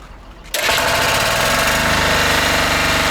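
A walk-behind tractor (motoblok) engine starts after a short quiet moment and then runs loudly and close, a rough, rapid, steady chugging rattle that continues without a break.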